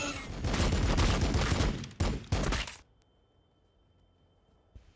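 Dense, loud volleys of gunfire from Warhammer 40,000: Battlesector roar for nearly three seconds, with a couple of sharp final bursts, then cut to near silence with a faint click at the end.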